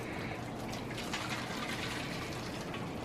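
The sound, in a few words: pouring crab boil juice into a pan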